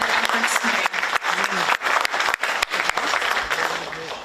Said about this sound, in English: please give a big round of applause to them for their efforts today